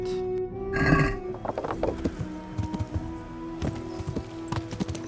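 Horse hooves clopping in Kingdom Come: Deliverance in an irregular rhythm after a brief loud burst, with a steady tonal hum running underneath; no speech.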